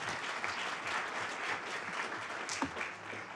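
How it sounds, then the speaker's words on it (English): At a town council meeting, the room gives a student a steady round of applause, a dense wash of many hands clapping at moderate distance with no talking over it. "Isabella, we'll clap for you."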